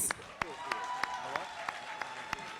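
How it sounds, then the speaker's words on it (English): Applause for an award recipient at a Jamaican long service awards ceremony: a few sparse, sharp claps spaced roughly evenly over a background of voices and room noise. "clap your hands for him"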